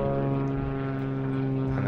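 A continuous propeller airplane drone hums steadily overhead, a low droning engine tone with no pauses or voices.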